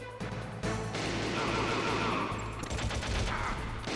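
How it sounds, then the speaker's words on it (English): Gunfire in the stealth action game Metal Gear Solid, a sustained loud volley of shots over a low rumble, running nearly continuously for several seconds. "Finally some fucking shooting."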